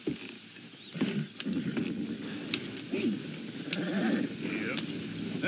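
Several horses moving along in Red Dead Redemption 2, with a soft patter of hooves and occasional snorts under continuous outdoor ambience, moderately near, while people talk in the background.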